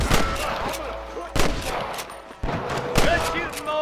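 Gunfire rings out in the Western video game Red Dead Redemption, with loud, sharp shots landing at irregular intervals and sounding close and reverberant.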